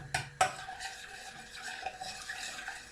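A utensil stirs melting sugar and butter in a pan, two sharp scrapes or clinks at the start, then soft scraping strokes, quiet and close with no voices.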